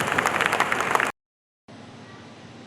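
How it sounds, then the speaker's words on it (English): A short burst of applause from a concert audience at an annual program in a hall, dense clapping that cuts out abruptly into silence before fainter room noise resumes. "Can we have a round of applause for Mr."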